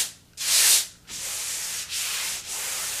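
A large sheet of sandpaper rasps across a drywall patch in several long strokes, each one close and loud, with brief pauses between passes.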